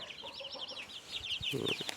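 Hens clucking in a coop, with a run of rapid, high-pitched bird calls repeating close by over soft background rustle and a few knocks, fairly quiet overall.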